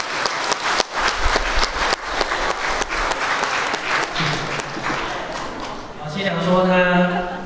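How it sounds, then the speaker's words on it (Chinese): A wedding reception crowd gives five students a full round of applause. The clapping is loud and sustained for several seconds, then a person starts talking over it as it carries on. "那也请大家替我给这五个同学掌声"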